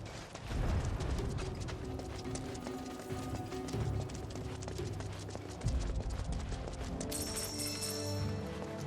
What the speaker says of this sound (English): You just became aware of the footstep sounds? Well, at least they're very good footstep sounds.